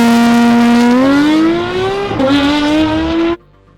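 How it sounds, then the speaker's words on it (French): A Porsche race car engine roars loudly and steadily as it accelerates past, its pitch climbing, briefly dipping near the end before cutting off abruptly. "je vais entendre ma voiture pour la première fois de l'extérieur"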